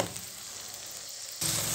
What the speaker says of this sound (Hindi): 2 मिनट मटरों को यहाँ पर फ्राई करेंगे।